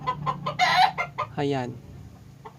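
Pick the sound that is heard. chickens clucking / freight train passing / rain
chickens clucking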